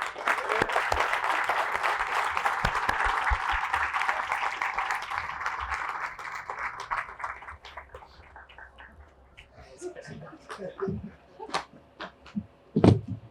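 A crowd applauds at the opening of a new downtown Aurora apartment development, dense clapping that holds strong for several seconds, then thins into scattered claps and a few voices before a last loud burst.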